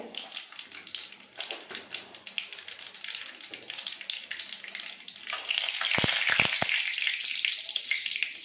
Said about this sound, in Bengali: ফোড়নে দিয়ে দেবো দুটো শুকনো লঙ্কা, এক চামচ কালো জিরে